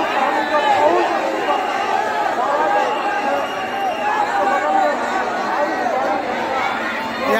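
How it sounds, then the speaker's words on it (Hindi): Dense crowd at a Maa Kali Marghat Wali idol immersion procession outside Unnao Gate in Jhansi, a steady loud babble of many voices with no clear single speaker. "अपार भीड़ के साथ"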